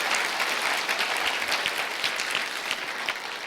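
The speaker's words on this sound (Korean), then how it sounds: "우리 박수 한번 더 보내주시죠" Audience at a 2018 Korean university students' winter retreat giving a sustained round of applause, dense and even, clapping alone with no talk over it.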